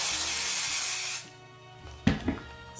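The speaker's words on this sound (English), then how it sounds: "some temporary spray adhesive on this" A can of temporary spray adhesive hisses in a loud, steady blast for about a second, then cuts off, followed by a couple of soft handling knocks.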